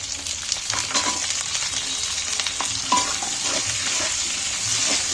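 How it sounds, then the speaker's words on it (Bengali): Chopped ginger, garlic and onions fry in hot oil with a dense, continuous close sizzle, broken by scraping stirs of a spatula against the pan. "আমি প্রথমেই তেলের মধ্যে আদা আর রসুনটা তুলে দিচ্ছি এবার পেঁয়াজগুলো তুলে দিচ্ছি"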